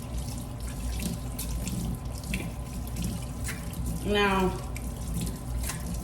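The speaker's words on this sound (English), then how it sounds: "Now I gotta wash my hands so I didn't touch the floor. Wash with soap, wash." Hands are washed with soap under a running kitchen tap, a steady close stream of water with a brief squeaky rub partway through; a voice says a single word.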